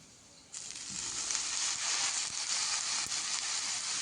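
Tandulkundra wild greens dropped into hot oil with spices, setting off a sudden loud hiss that settles into steady, even sizzling frying alone with no voices.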